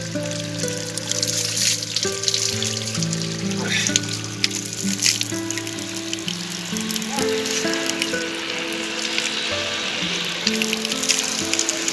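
Natural mountain spring water flowing steadily in the Kedarnath valley of Uttarakhand, a continuous close rush and trickle with a faint tonal hum running beneath it throughout.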